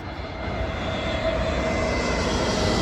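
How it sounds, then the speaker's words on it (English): An Airbus A321 airliner passes over near London Heathrow, its engine roar steady and broad and slowly building in loudness, heard alone without talk. "That right there is an A321, folks. Not a normal A320, that's a stretched A321."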